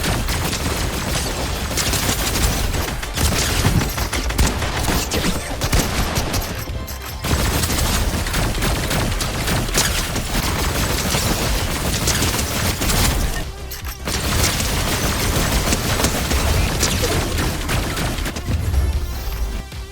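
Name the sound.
gunfire from the Overclock Pulse Rifle in Fortnite Reload, video game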